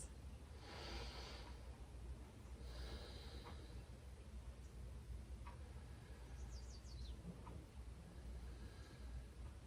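Slow, steady breathing held through a seated yoga pose on the floor, two soft hissing breaths rising over a low room hum, fairly faint and close, with no talking.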